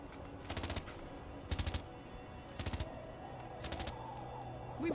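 Automated base defenses firing in the survival strategy game Surviving the Aftermath: five short, rapid rattling bursts at regular intervals, moderately distant and fairly faint over a low ambient bed.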